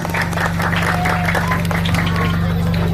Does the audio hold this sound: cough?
no